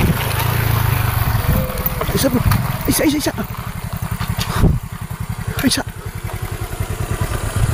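A motorcycle engine idles and putters close by with a steady chugging pulse, while several people talk and call out loudly over it.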